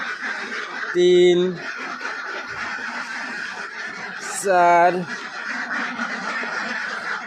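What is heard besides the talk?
ducks quacking on a duck farm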